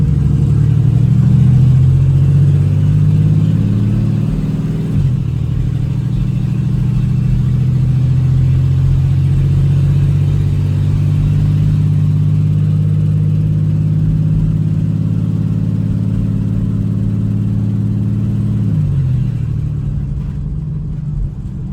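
A 2008 Chevy Express van engine cranks and catches, then runs with a steady low rumbling idle that shifts pitch as the revs change, loud and close with no speech over it.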